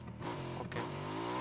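A motorcycle with sidecar in PUBG hums with a steady droning engine, its pitch rising and shifting as it revs, loud and continuous throughout.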